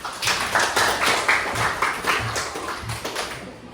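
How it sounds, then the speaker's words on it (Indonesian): A classroom group of students claps together in a loose, rhythmic, repeated pattern. The patter is fairly close and steady and lasts a few seconds, with no talking over it. "tepuk tangan untuk kita semuanya"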